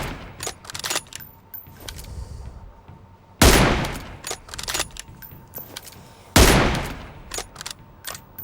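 Sniper rifle shots from an M24 in PUBG Mobile, with two loud sharp cracks a few seconds apart standing out over a busy bed of clicks, taps and quieter distant gunfire.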